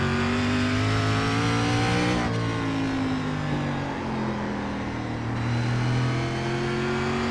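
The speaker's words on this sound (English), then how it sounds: "This is a heck of a race car for sure." Race car engine in the iRacing sim, a Superstar Racing Experience car, droning steadily with strong harmonic tones that dip and climb as revs fall under braking and rise again, loud and continuous throughout.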